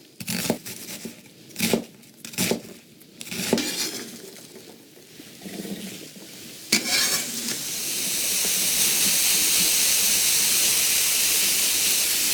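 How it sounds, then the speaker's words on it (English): Vegetables are stirred in a hot pan, giving scattered scraping knocks of a utensil at first. Then a loud, steady frying sizzle swells and holds close up, with no talking. "we'll give these a little bit of a stir"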